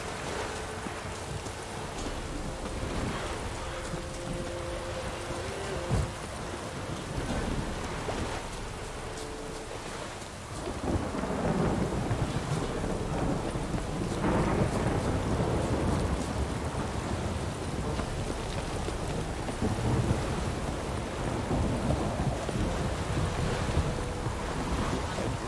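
Rain pours steadily in a Witcher 3 storm, a dense constant patter that grows louder partway through, with low thunder rolling underneath and no talking.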